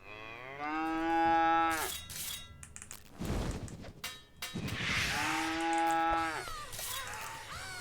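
Drawn-out cattle moos, several overlapping and fairly close, from cows in the online role-playing game Project Gorgon, with thumps and clatter between calls.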